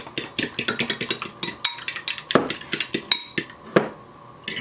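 A fork whisks egg wash in a bowl, a brisk series of quick clinking taps against the bowl, close and distinct, then a few slower scrapes and knocks near the end.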